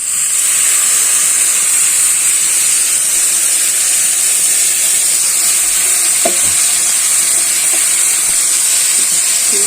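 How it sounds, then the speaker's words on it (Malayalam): Boiling water poured over roasted vermicelli in a pan sizzles and hisses loudly and steadily, with faint clinks partway through and no talking. "സേമിയയെല്ലാം നമ്മളെ വരണ്ട് വരുമ്പോൾ നമ്മുടെ ഈ തിളച്ച വെള്ളം കൊണ്ട് ഒഴിക്കാം"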